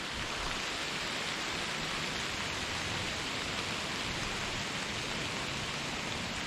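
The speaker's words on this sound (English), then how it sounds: "It's really starting to rain now." Heavy rain falls steadily in the woods during a deer hunt, a dense, even hiss of drops on leaves and surfaces, continuous and fairly loud with no talk.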